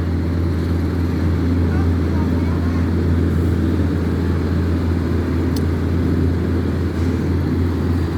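A heavy road-paving truck rumbles past on a street being asphalted, its loud, continuous low engine drone holding steady throughout, with people talking nearby.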